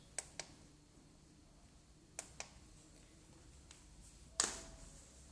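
A portable 308nm excimer UV phototherapy device gives soft, sparse button clicks in pairs, then one sharper click with a brief tonal beep, all faint in a quiet room.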